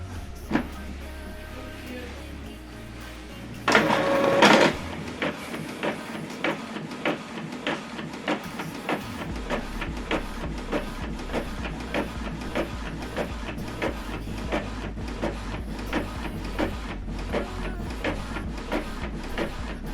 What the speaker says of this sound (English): So this document now is going to print.